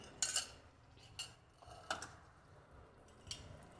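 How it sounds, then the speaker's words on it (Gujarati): Soaked chana dal and chopped bottle gourd are tipped into a kadai, giving a few faint, sparse metallic clinks and soft scrapes of utensil against pan in a quiet kitchen. "હવે દૂધી દાળ આપણે કડાઈમાં ઉમેરી દઈશું"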